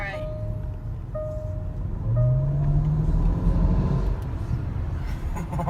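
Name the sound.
loud car engine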